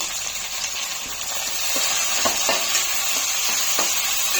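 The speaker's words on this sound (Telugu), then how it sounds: "ఆయిల్లో మంచిగా ఫ్రై అవ్వాలి" Steady hiss of spices frying in hot oil over high flame, with a few faint clicks and stirs over the constant sizzle.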